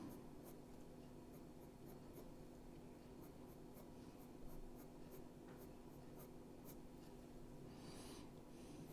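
Coloured pencil shading across paper to darken the deepest areas of a drawing, a steady close scratchy rasp with light repeated strokes running throughout.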